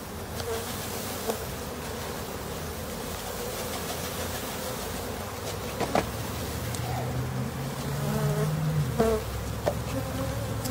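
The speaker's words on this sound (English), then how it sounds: "it's pretty much shake the bees up" Dense, steady buzzing of many honeybees being shaken out of their transport container at a zoo, with occasional soft knocks and bumps as the swarm stirs.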